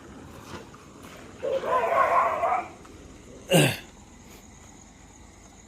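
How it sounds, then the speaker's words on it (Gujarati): Dogs bark at night beside a road on a long pilgrimage walk: one drawn-out bark followed by a short, sharp one, heard at moderate distance over a quiet background. "જ્યાં જોઈને કૂતરા."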